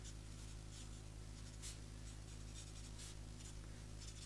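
A pencil colouring a sketched butterfly on paper, dark peach shade, making a faint, steady scratchy rubbing with short repeated strokes, quiet and close under a low background hum.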